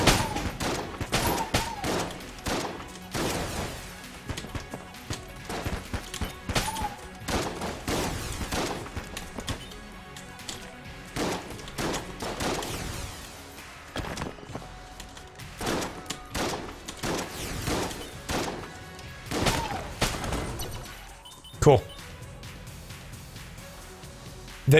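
Dense, continuous video-game gunfire in Enter the Gungeon, many rapid shots layered over busy game music and effects, with one louder thump near the end.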